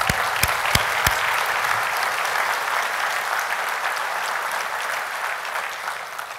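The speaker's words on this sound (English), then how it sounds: "Give LA DWP a round of applause." Conference audience at a utility industry general session applauding steadily, a dense sustained clapping with a few sharp near claps at the start, no talk over it.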